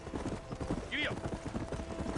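A horse gallops in the Red Dead Redemption video game with a steady, rhythmic clip-clop of hooves and a brief whinny in the middle, under ongoing talk.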